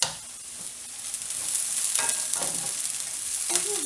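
Corn browning in a pot with onions and celery for smoky corn chowder is stirred over low heat. A soft continuous sizzle runs under several scraping spoon strokes, heard close and alone.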